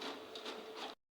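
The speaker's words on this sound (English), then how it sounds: "the printer will respond by printing out this page, and you will surely hear the sound once it starts to print this page" An HP Deskjet 2720 inkjet printer running off a page, a steady close mechanical whir with rhythmic swells of the print head passing back and forth, stopping abruptly near the end.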